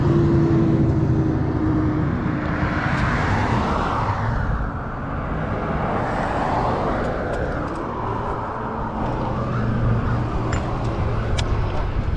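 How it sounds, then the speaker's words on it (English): Lunchtime traffic at a busy intersection, with a continuous roar of cars passing close by in overlapping waves, loud and steady throughout. "so we got a lot of traffic out here"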